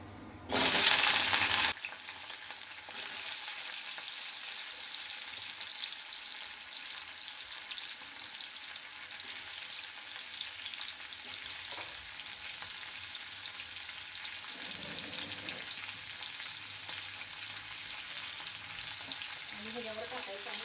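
Ivy gourd (tondli) dropped into two ladles of hot oil in a pan for a home-style gravy curry, giving a brief loud burst of sizzling that settles into a steady, softer frying hiss with occasional stirring.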